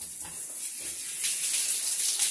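A steady, broad hiss of water spraying from a shower head runs throughout, fairly constant and swelling slightly louder toward the end, with no talking.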